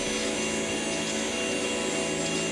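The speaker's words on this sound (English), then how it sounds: "The vacuum cleaner is very powerful and works really well." A homemade vacuum cleaner runs at full power, a loud, constant, dense whooshing motor roar that holds steady close by with no change throughout.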